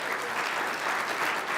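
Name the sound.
audience round of applause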